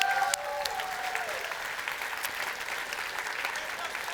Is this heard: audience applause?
yes